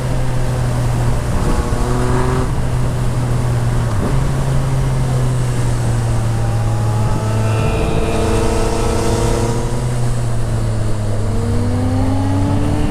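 A 2014 Yamaha MT-09 motorcycle engine with a full Akrapovic exhaust drones loudly and steadily throughout, its pitch dipping and rising with gear changes, a deep throaty exhaust note running the whole time.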